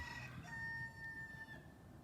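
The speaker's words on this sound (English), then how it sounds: "There's my chickens." A rooster crows once in a backyard, a drawn-out call over faint background clucking from chickens, heard from a short distance.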